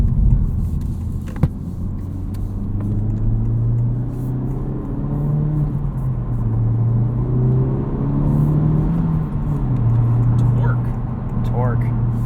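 A 2023 Honda Civic Type R engine drones steadily and loud on the street, pitch rising and falling as it revs through the gears; someone talks over it throughout.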